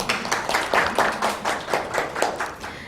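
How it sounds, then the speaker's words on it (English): A small group claps steadily and briskly for a few seconds, the applause fairly close and even with no voices over it. "So give yourselves a little round of applause"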